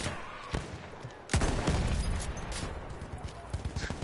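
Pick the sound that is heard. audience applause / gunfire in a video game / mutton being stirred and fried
gunfire in a video game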